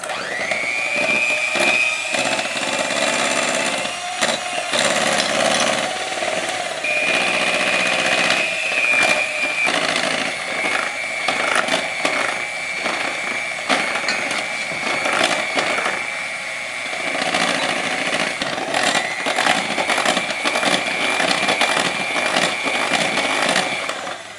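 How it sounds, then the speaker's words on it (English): Eggs are beaten for pastry cream while hot milk is ladled in, making a loud, steady whirring drone that runs throughout with slight shifts in pitch and no talking. "I'm now going to add my hot milk to this, a ladleful at a time, while I'm beating it."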